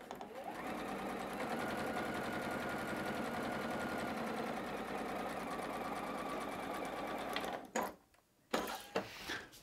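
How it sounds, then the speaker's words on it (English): A sewing machine stitches through fabric for quilt blocks in a steady, loud mechanical whir lasting about eight seconds, then stops abruptly, followed by a few brief clunks and handling sounds. "Sew all the way through one side, cut that thread, spin the fabric,"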